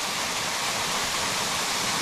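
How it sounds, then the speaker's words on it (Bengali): A small mountain waterfall splashing straight onto a road in Arunachal Pradesh, heard as a dense, unbroken rushing of water, close and fairly loud throughout. "সামনে একটা ছোট্ট ঝর্ণা একদম রাস্তার উপরে পড়ছে"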